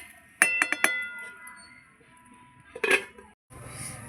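A lid set onto a cooking pot of fish curry: a quick cluster of metallic clinks, then a louder rattling clank a couple of seconds later, with quiet background between.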